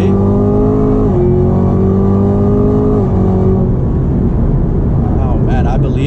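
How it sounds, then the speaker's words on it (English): A 2019 Chevrolet Camaro ZL1 1LE, an automatic shifted in manual mode, pulls hard at full throttle around 60 to 70 mph, its engine note rising steadily through two upshifts, loud and close from inside the cabin. "When you floor it, that's when the car hits its full,"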